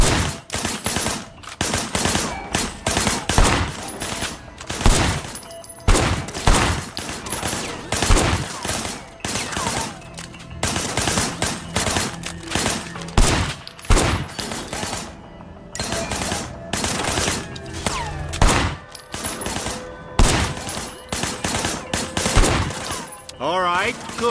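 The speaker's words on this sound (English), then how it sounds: "I want you to put some bullets in a few things." Rapid bursts of gunfire from a shootout in the video game Sleeping Dogs, loud and dense, with repeated automatic volleys and single shots running throughout over a constant din.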